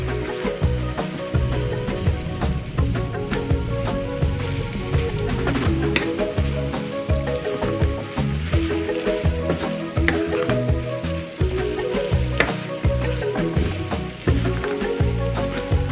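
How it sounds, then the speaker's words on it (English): Tomato paste is stirred into a beef mixture frying in a pan for shepherd's pie, with constant crackling sizzle and repeated scraping stirs throughout. "I want to stir this well until it's incorporated and no clumps of tomato paste remain in"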